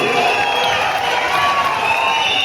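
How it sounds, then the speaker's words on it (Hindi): A large crowd at an outdoor political rally under a big tent cheers and shouts continuously, with whoops and scattered clapping forming a dense, loud wall of sound throughout. "जोर से ताली बजाओ"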